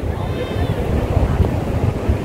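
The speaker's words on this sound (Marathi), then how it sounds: "ते बघा लाटा कशा नदीला येऊन थांबतायत" Sea waves wash and break at Devbagh's Sangam point, where the Karli river meets the Arabian Sea, a continuous rushing surf mixed with gusty wind noise on the microphone while a person talks nearby.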